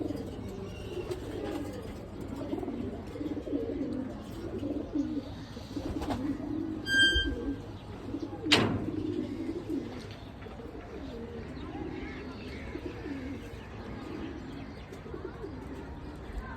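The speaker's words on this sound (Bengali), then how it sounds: "শখের প্রিয় কবুতর তো" Pet pigeons cooing softly in a loft, low repeated coos running through the whole stretch at moderate distance, with a brief sharp chirp and a click partway through.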